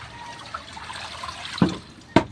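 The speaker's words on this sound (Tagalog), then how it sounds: "tatapon ko muna pala itong tubig na meron sabon" Soapy laundry water poured out from a basin while washing clothes by hand, heard as a low steady trickle and splash with two brief louder sloshes near the end.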